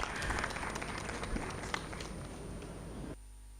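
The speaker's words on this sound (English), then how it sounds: "I ask the audience give a big round of applause to our panelists." Audience applause for a panel of speakers at a women entrepreneurs' event, a dense wash of clapping that fills the room and then cuts off abruptly near the end.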